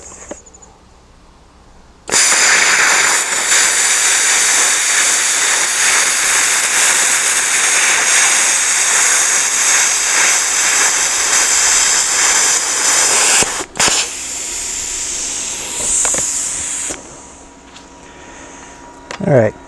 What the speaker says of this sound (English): I'm going to leave my mic on so you can hear the volume of the cutter